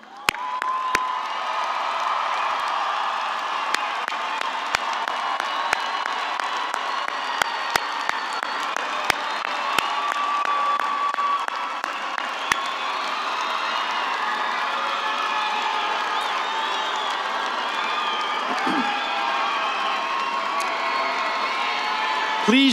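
A large graduation ceremony audience cheers, whoops and applauds for a sustained stretch, a thick, continuous crowd roar with scattered sharp claps and shouts rising and holding at full volume.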